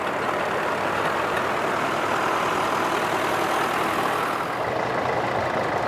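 A Lanz Bulldog vintage tractor rolls past at an old-tractor gathering, its engine a steady, dense rumble heard from close range that holds without a break, with no talk over it.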